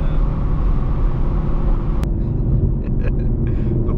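Whipple supercharged Ford Mustang rumbling loudly up close, a sharp crack midway, then a scattering of brief exhaust pops over the steady engine drone.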